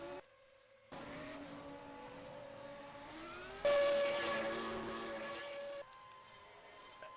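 An F1 race car in F1 2000 pulls out onto the track at the German round, its engine whining steadily and climbing through the gears, with a louder surge midway as it accelerates away.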